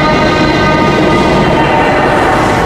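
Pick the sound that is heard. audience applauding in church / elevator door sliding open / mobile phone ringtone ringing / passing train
passing train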